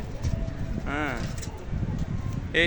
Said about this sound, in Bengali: এই পায়রাটা একটু ঝগড়াঝগড়ি করেছে।